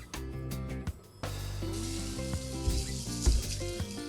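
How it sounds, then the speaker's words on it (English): Steady sizzling of garlic frying in hot avocado oil, with a few clinks and stirring noises in the pan throughout. "Start by frying the garlic."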